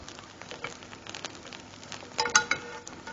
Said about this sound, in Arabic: طواية على النار وبحط فيها زيت زيتون، وبنحط فيها كمان من الزبدة